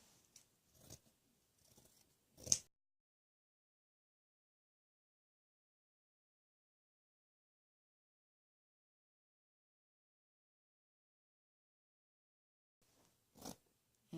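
Scissors cutting out t-shirt fabric: a few short, crisp snips near the start, then a long silence before two more quick cuts at the end.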